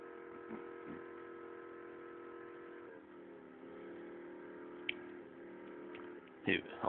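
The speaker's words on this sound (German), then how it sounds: "Autos fahren in die Wände rein" Cars in the Driver 2 video game drive and crash into walls, heard as a steady mid-pitched engine drone with a few sharp knocks and a louder impact burst near the end.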